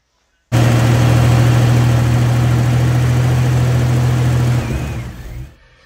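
A Jeep Cherokee 4.0 straight-six, just rebuilt in the frame, fires up and settles into a loud steady idle with a strong low hum, then cuts off near the end, with no talk over it.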